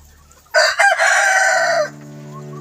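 A rooster crows once, loud and close, a drawn-out call that fades into a faint background drone.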